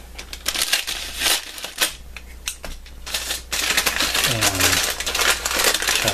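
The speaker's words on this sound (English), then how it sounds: "let's go ahead and get started with opening the first of this month's two Mystery CD Grab Bags. Scissors in hand." Scissors cutting open a plastic mystery CD grab bag, with a run of sharp snips, crinkling and rustling of the packaging close up, busier in the second half and briefly joined by a voice.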